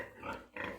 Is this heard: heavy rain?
no